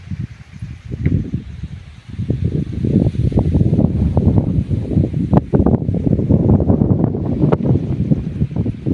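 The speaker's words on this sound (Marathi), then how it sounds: "मस्त गार हवा सुटली आहे" Strong, cool wind buffets and roars across the microphone in loud rushing gusts, rising after a quieter start and rustling leaves nearby, by a sugarcane field under cloudy skies.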